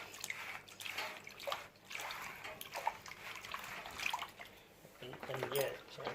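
Water swirling and sloshing in a gold prospecting pan shaken around indoors, with soft irregular splashes and drips, faint and close, while a person talks over it.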